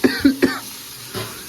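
A person coughs close by: three quick, harsh coughs in a row, then a pause and one softer cough.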